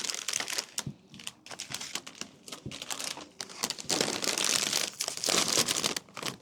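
A bag of baked vegan corn chips being torn and pulled open, crisp crinkling and crackling plastic in bursts that grow busier toward the end, close and fairly quiet with no talk.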